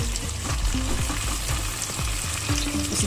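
Chopped tomato tipped into browned onions frying in a pan for mutton rogan josh: a loud, steady sizzle with scraping stirs and a few knocks of a spoon against the pan.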